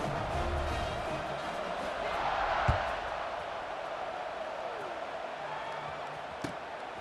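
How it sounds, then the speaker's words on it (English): Stadium crowd in an EA Sports College Football 26 game buzzes as a steady, dense roar, with a sharp thud or slam near the middle and a softer knock toward the end. "this crowd is buzzing after that last score"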